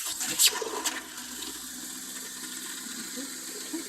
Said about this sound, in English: Do the same on the kitchen sink. Run it a bit just to get all the air out